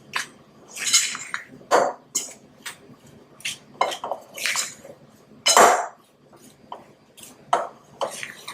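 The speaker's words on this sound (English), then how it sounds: "So I'm just going to use a fork and whisk this all around." A fork whisks a sugary mixture in a bowl, sounding as irregular bursts of metallic clinking and scraping against the bowl with short quiet pauses between strokes.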